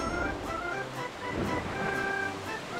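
A waterfall in Zelda: Twilight Princess HD on Wii U gives a continuous rushing roar of falling water, with faint tonal game music layered over it and no speech.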